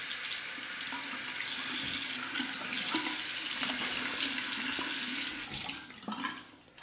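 Water from a bathroom sink tap runs steadily while a Merkur safety razor is rinsed under it, producing a close, continuous hiss and splash that tapers off as the flow stops near the end.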